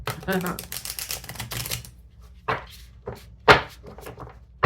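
Crisp rapid riffling of tarot cards in a dense burst, then a few isolated soft slaps and shuffles, with a voice speaking briefly at the start.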